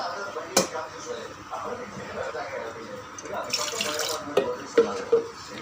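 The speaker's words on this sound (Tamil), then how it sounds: "தண்ணி கொஞ்சம் ஊற்றிக்கணும்" Water poured into a pot while cooking tomato rasam, splashing and running in uneven bursts close by, with a voice speaking over it.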